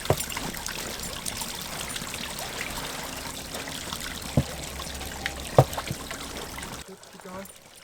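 Water trickles over a boulder in a recirculating backyard fountain fed from a reservoir, a steady close splashing flow with a few louder drips, under a voice, before it cuts off near the end.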